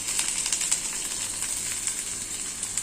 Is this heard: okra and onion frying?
yes